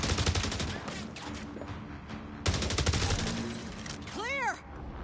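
Rapid gunfire from a Star Wars Battlefront 2 mod video game, dense bursts of automatic shots rattling almost continuously in two long volleys, loud and close, with a player talking over it.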